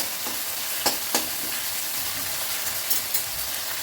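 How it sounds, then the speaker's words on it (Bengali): Potato pieces stir-fried with a five-spice tempering make a continuous dense sizzle, with a few sharp scraping stirs of the spoon against the pan. "এবার আলুর টুকরোগুলোকে একটু নাড়াচাড়া করে একটু ভাজা ভাজা মতো করে নেব।"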